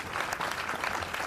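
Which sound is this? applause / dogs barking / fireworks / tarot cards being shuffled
applause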